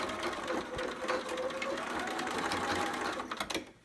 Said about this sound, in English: And we're gonna sew back stitch.